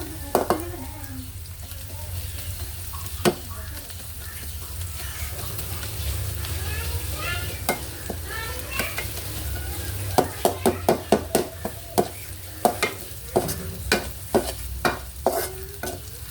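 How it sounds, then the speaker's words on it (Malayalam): Shallots frying in a pan for kothu parotta with beef, a continuous close sizzle with repeated sharp scrapes and clacks of a spatula stirring, growing more frequent toward the end. "ചുവന്നുള്ളി നല്ലോണം ഉണ്ട് ഫ്രൈ ആവേണ്ടത്."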